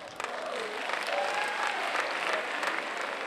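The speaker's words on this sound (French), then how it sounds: "Applaudissez pour les femmes" Audience applause for the women at a comedy-style family show, a soft, continuous patter of many hands at a distance with a few faint voices mixed in.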